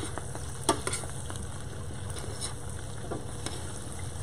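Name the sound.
stirring dry aged beef stock in a big pot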